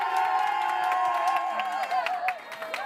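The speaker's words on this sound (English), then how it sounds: "If you think it was Ben, let's hear it." A live studio audience at a college sports show cheers and whoops in a sustained, loud burst of crowd noise, with scattered shouts rising and falling over roughly three seconds.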